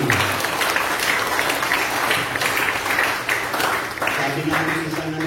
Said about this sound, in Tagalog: Sa pangmalakas na palakpak sa ating Panginoon.